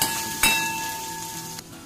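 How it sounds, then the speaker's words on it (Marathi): Garlic and chili sauté in a hot pan with a sharp sizzle that bursts loudly near the start, then hisses steadily and fades, with a brief clatter toward the end. "थोडासा लसूण, आणि जी ही एक मिरची घेतली होती ती सुद्धा छान परतवून घ्यायचं आपल्याला"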